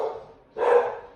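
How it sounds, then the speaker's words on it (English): A dog gives a couple of short, sharp barks close by, the second louder and higher, with silence between. "My dog is upset."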